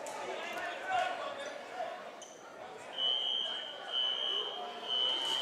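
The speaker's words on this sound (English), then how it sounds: "And the fire alarms are going off." A fire alarm sounds in a school gym during a high school basketball game, giving repeated steady electronic buzzer tones between pauses over crowd noise and a bouncing ball.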